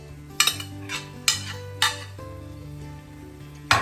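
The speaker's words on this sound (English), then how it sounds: "so I'm gonna put all the rice in here" Rice goes into a hot pan and is stirred with a spoon, making repeated scraping, clinking strokes over a soft sizzle, with a steady tonal hum underneath.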